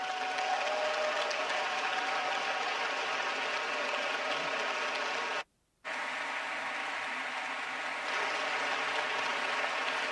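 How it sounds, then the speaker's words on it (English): Congress audience applauding the Chancellor of Germany, Olaf Scholz, at a party congress: dense, steady clapping from a large hall crowd, broken by a brief silent cut midway, then resuming at the same level. "So please, Congress, give a warm applause for the Chancellor of Germany"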